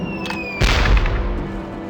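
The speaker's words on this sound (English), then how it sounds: "it's one of those new self-loading cannons I've heard so much about" A self-loading cannon fires in The Curse of Monkey Island, a single booming blast that starts abruptly over a steady background hum and then rolls off with a rumbling tail.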